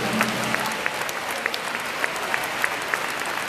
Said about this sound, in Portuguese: As palmas para Jesus Cristo.